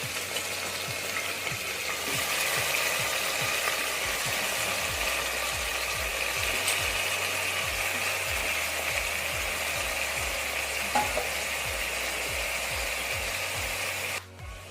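Mutton sizzles in a hot pan after roasted garam masala and black pepper go in for a Kolhapuri mutton rassa, with a steady frying hiss and regular scraping, clicking stirs throughout.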